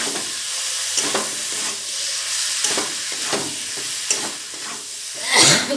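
Cabbage sautéed with spices and fresh green chillies in a pan gives a steady frying sizzle and hiss, broken by repeated scraping stirs of a spatula close by, with no talk.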